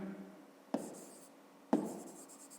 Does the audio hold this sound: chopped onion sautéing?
no